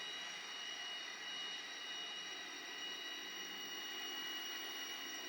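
A model locomotive motor fitted with a DCC sound decoder runs with a faint, steady, high whine and hum that holds unchanged throughout.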